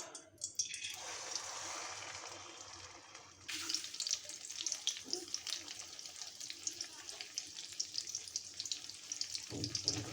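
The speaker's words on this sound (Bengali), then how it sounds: "এখন এখানে তেল দিয়ে দিছি আমি ডিমটা ঢেলে দিব" Egg with pumpkin flowers fries in hot oil: a bright, close sizzle jumps in partway through and settles into a steady crackling hiss, preceded by quieter kitchen sounds.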